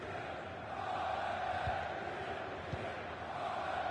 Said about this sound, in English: The crowd are doing their bit, trying to get the players forward to try and get this goal.